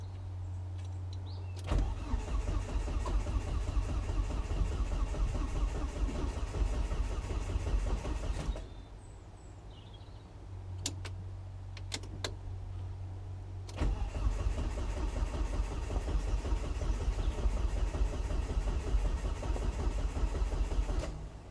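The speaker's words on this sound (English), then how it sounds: "we're going to crank this now" A Volvo S40 engine with a Holset HX40 turbo and Speeduino ECU cranks repeatedly in two long bursts separated by a short pause, steady churning whir without catching, close and loud.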